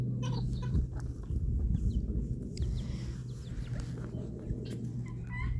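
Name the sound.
chickens clucking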